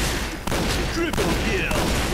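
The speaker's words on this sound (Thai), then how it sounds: "ยืมลูกซองไอ้ปลายมาใช้หน่อย" M1887 shotgun fire in the video game Point Blank, loud blasts breaking through a dense, continuous wash of game noise and gunfire, with voices talking over it.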